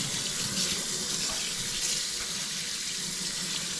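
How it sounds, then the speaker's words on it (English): Tap water runs steadily into a kitchen sink while hands are washed during roast chicken preparation, a continuous close splashing hiss with no talk. "And then I'm going to go wash my hands real quick."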